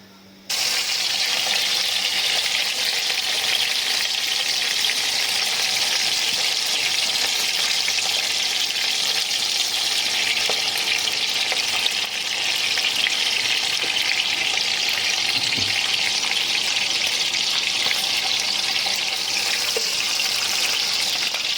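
Neck meat frying in oil, a loud, steady sizzle that holds evenly from start to finish with no voices.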